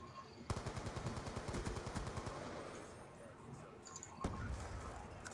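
Gunfire in the video game Black Ops 2 comes as rapid automatic bursts, then a quieter stretch and another sharp shot, all heard under soft game ambience.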